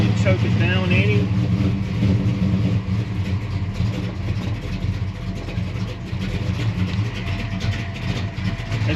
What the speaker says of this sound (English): It's idling in gear.